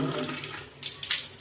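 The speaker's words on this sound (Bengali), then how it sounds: "একটু জল দিয়ে দেবো।" Water is poured into a frying spice paste of turmeric and chili powder, a steady soft splashing pour that swells briefly toward the end, heard alone.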